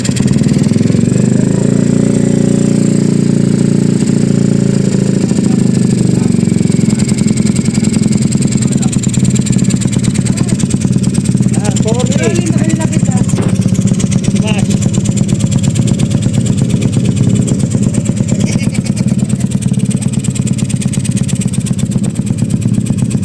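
A Honda Wave 125 block motorcycle engine, built with a 62 mm bore and a Smash 115 sniper head, runs loud and steady after starting, with a constant rough drone and slight revving. Voices can be heard faintly under the engine.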